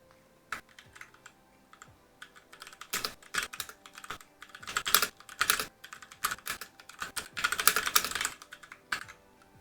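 Rapid keystrokes on a computer keyboard, close and fairly quiet, coming in irregular bursts of clicks separated by short pauses, with no talking.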